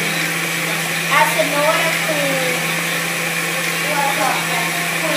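Electric blender whirring steadily to mix carrot cake batter with eggs, a continuous motor drone with a person talking over it.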